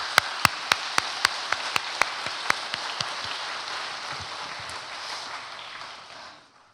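A church congregation claps for the students, beginning with loud unison rhythmic claps that loosen into a dense wash of scattered applause, then fade out. No one speaks.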